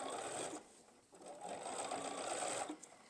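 A Bernina sewing machine stitches quilt binding at a 2.5 stitch length, its close, rapid mechanical whir running steadily with a brief slowdown near the start before picking up again.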